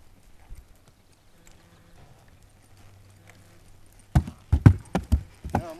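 After a few quiet seconds, a horse's hooves clop close by in a quick uneven series of about half a dozen steps.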